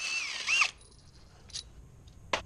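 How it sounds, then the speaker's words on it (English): A power tool whirs briefly near the start while backing out the crank pulley bolt on a 2002-2006 MINI Cooper S in a garage, followed by a few short sharp tool bursts. "And then I'm going to stop and back this bolt out"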